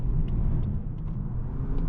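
A 2023 Lexus UX 250h F Sport hybrid accelerates through its CVT, heard from inside the cabin as a steady low engine drone and road rumble with no distinct shifts.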